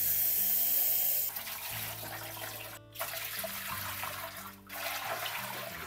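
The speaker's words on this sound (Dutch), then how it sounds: "En dan vul ik hem met 3 liter water." Cold tap water runs into a pressure canner as about three litres are added, a steady close rushing pour with changing pitch as the pot fills, briefly interrupted twice, with no talk.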